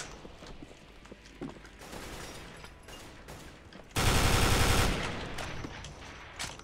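Gunfire in a video game, apparently a Counter-Strike style match on an inverted Inferno map, with bursts of rapid shots and a loud, dense volley near the end over busy game sounds.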